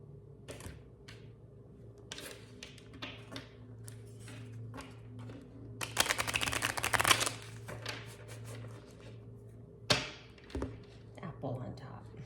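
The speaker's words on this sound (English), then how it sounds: "let's go ahead and draw a couple of symbolism cards for today" A deck of symbolism cards is shuffled and cards are drawn, with soft riffling, taps and a louder flurry of shuffling near the middle.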